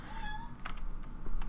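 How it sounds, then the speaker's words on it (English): A pet cat meows indoors with a few short, wavering cries near the start, followed by faint clicking like computer keyboard typing in a quiet room. "That's my cat."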